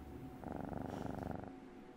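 A cat purrs steadily up close, a soft rhythmic rumble that swells for about a second and then fades back into a quiet room hum.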